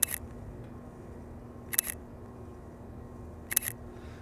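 Three sharp, crisp Leica M10 rangefinder camera shutter clicks, evenly spaced about two seconds apart, against a quiet low hum.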